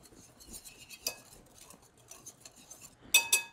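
A whisk stirs flour and baking powder together in a bowl, giving soft, irregular scraping and light metallic clinks at close range, with a brighter clatter near the end.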